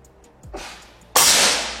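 A Marauder Grand Kinto PCP air rifle fires. A soft pop comes first, then a sharp, loud crack that fades in a short tail, close up with no voices.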